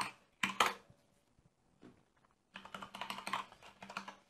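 Password keystrokes tapped out on a computer keyboard during a web admin login, a short quick burst of clicks, then a pause, then a longer steady run of close, crisp key presses.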